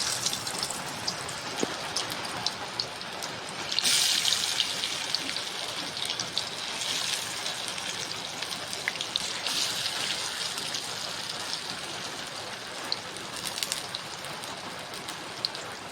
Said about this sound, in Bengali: এখন তেলের মধ্যে ছেড়ে দেবো বড়াগুলোকে